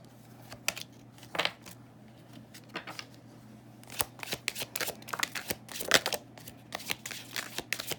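Tarot cards being shuffled by hand, close and crisp, with repeated riffling and flapping bursts and small taps at irregular intervals, no voice over them.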